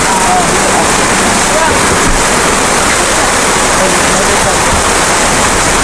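Dense, steady roar of heavy rain pouring down, loud and continuous throughout with no pauses.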